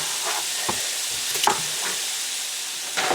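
Sliced onions fry in oil beside bratwurst sausages, producing a close, bright, continuous sizzle with a few brief clinks and shuffles as the pan is moved; no voices.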